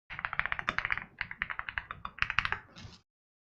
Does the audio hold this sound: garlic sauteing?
no